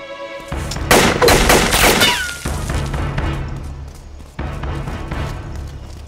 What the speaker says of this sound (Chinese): 谁开枪？